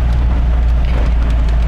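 Heavy rain drums densely on a car's body while it drives, a close, continuous patter over a steady low engine and road hum.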